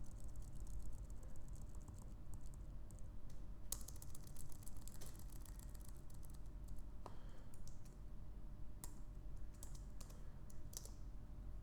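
Typing on a computer keyboard while writing software release notes, a steady run of soft close key clicks with occasional sharper taps, continuous over a low background hum, no voices.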